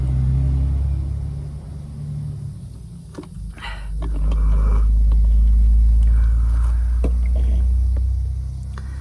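A vehicle drives by outdoors: a deep, low rumble thins out, then swells louder from midway and stays heavy and close before easing slightly at the end.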